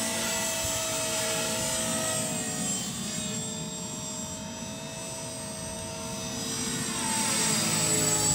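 HK450 radio-controlled model helicopter in flight, a steady high-pitched rotor and motor whine with a broad whooshing hum that dips slightly in the middle and swells again, heard close and alone.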